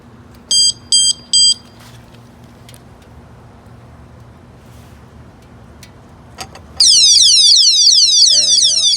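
Jacool motorcycle alarm fitted on a Honda Grom, starting with three short chirps, then a quiet stretch before a loud, piercing high-pitched warbling siren kicks in and keeps sounding at close range.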